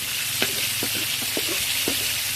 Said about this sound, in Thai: ทอดแล้วเราก็ทอดพริกลงไป พริกทอดนะคะ